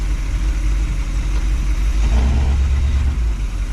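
4WD van engine running with stuck brakes, a loud close low rumble and droning idle that swells slightly midway, with no voices.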